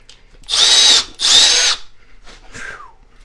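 Milwaukee M12 Fuel hammer drill clamped in a workshop, two loud close whining bursts of about half a second each in quick succession, followed by a shorter quieter spin-down.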